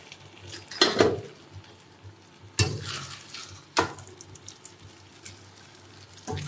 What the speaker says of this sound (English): turn off the heat and scoop out your kueh